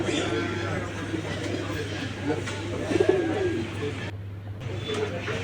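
Pigeons at a night pigeon market, low rolling coos rising and falling in the background with a steady hum and someone talking over them.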